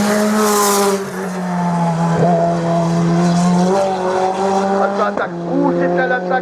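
A rally race car screams past at high speed on a regional hill climb course at Hébécrevon, its strained engine note holding steady and loud throughout with brief tire squeal, while a commentator talks excitedly over it.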